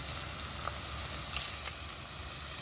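Masala paste sautéing in oil for prawn biryani, a soft continuous sizzle close by with a few faint clinks and pops and a brief louder stir in the middle.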